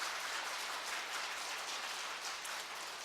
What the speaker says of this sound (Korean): 예, 박수로 환영하도록 하겠습니다.